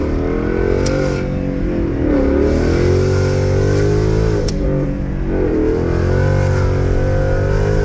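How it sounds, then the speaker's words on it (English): A Ford Mustang's engine drones loudly and continuously, with short rising blips at each paddle-shift downshift repeated a few times, and no talk over it. "go ahead and downshift. And downshift again."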